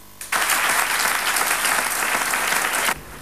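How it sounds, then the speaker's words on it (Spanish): Audience at a political gathering breaks into a sustained, dense ovation of clapping after a speech on terrorism, starting abruptly, holding steady and loud for over two seconds, then cutting off. "Palabras que han provocado una ovación cerrada de sus compañeros"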